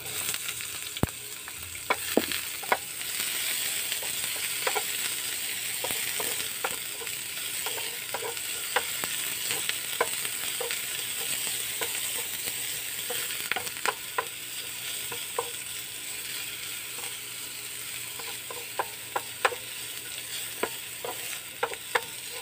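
Onion frying in a pan while being stirred, for a home-cooked fish soup: a soft continuous sizzle with frequent sharp scraping taps of a utensil against the pan, close and fairly quiet.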